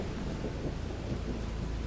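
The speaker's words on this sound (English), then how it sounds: "I heard a thunderclap so loud, car alarms went off in the distance." Steady heavy rain with a deep, rumbling thunderclap rolling underneath, a dense low roar with no distinct crack, moderately quiet and continuous.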